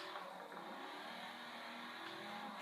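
In a Forza racing game, a Mini extreme off-road car's engine revs in a sustained, buzzing mid-pitched drone with a steady rising whine. It holds at an even, moderate loudness throughout, with no voices.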